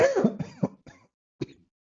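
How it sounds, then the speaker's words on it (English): A short burst of several harsh coughs close by, then a pause and one last quieter cough. "excuse me, I'm coughing"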